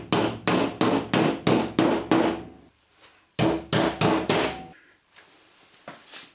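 Hammer taps driving a Bullfix plasterboard fixing collar into a 20mm hole, a quick regular run of about eight sharp knocks, a brief pause, then four more, loud and close with no talk.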